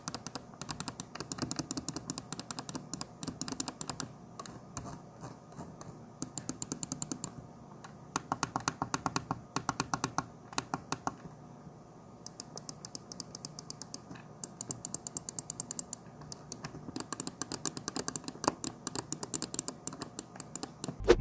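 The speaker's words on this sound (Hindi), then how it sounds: "माउस के राइट और लेफ्ट क्लिक्स मीडियम रेजिस्टेंस के साथ हैं, जबकि स्क्रॉल, DPI और साइड बटन्स हाई रेजिस्टेंस के साथ हैं। इनकी साउंड कुछ यूं है।" Bursts of rapid, crisp clicks from the buttons of a Redragon M601 Centrophorus 2 RGB gaming mouse rattle out in dense runs, separated by short pauses, close and clear with no talking.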